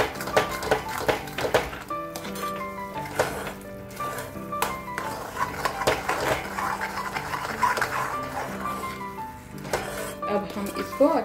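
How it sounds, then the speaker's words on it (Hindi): A spoon stirs sugar into a mango and suji mixture in a pot, giving repeated metallic scrapes and clinks at an uneven rhythm, with someone talking over it throughout. "अब हम इसको अच्छे से मिलाएंगे जब तक के चीनी है शुगर है जो वो अच्छे से मिक्स ना हो जाए।"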